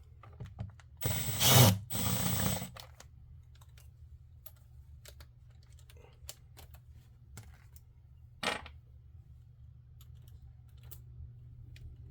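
Bolts are tightened on a DeWalt DCS382 reciprocating saw during a shaft change, with a short burst of mechanical ratcheting and whirring near the start, another brief burst later, and scattered small metallic clicks between.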